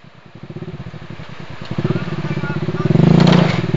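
Low-slung motorcycle on a dirt trail in Coron, Palawan, its engine chugging up from a low idle into rising, throbbing revs, loud and close, with a brief voice in the background.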